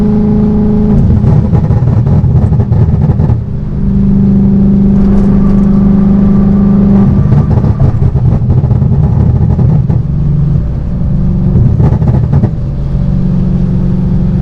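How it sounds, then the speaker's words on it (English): A supercharged car engine with a Jackal Motorsports tune and VF Engineering supercharger drones steadily from inside the cabin, with rising and falling revs and scattered crackling exhaust pops and bangs as the throttle lifts. "This is what the car sounds in the inside when I let go of the gas to do some pops and bangs"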